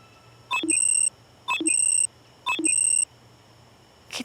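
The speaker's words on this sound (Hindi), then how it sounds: "कितने अलार्म लगाए हैं इसने सुबह उठ के क्लास आने के लिए।" An alarm clock beeps in three evenly spaced bursts, each a bright electronic tone lasting about half a second, close and clear with quiet between them.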